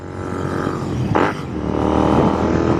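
A Royal Enfield Continental GT 650 motorcycle engine hums steadily while riding, rising in a smooth rev through a turn, with a brief breathy burst of wind noise midway and the engine note climbing again afterward.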